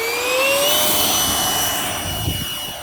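A Durafly DH 100 Vampire Mk 6 RC ducted-fan jet on a 4S 2200 mAh battery, flaps set for takeoff, whines loudly as its pitch climbs, with a rushing roar as it lifts off on a windy day.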